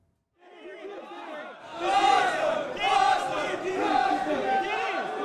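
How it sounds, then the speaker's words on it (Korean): A crowd of football fans waiting at an airport for visiting legends such as Thierry Henry breaks into loud screams and cheers that swell and stay sustained, rising sharply after a quieter start. "팬들의 함성이 공항을 가득 메웁니다"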